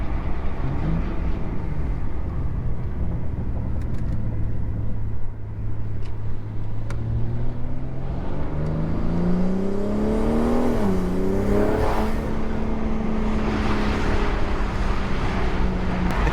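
A car's exhaust and induction noise carry through a drive on a scenic road, a loud steady drone that swells as the engine revs up and climbs in pitch, then settles into a higher sustained note.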